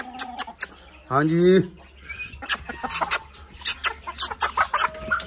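Polish chickens in a pet house cluck nearby in short, scattered bursts, with one louder squawk early on, while someone speaks briefly over them.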